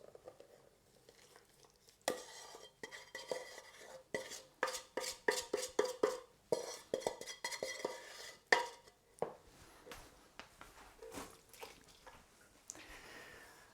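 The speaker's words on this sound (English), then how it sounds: "Now we'll just give this a good stir around." Flapjack mixture stirred into oats in a bowl, heard as a run of quiet rhythmic scraping and clacking strokes, fairly close and faint, with no talking.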